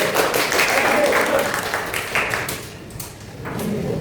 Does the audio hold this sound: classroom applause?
yes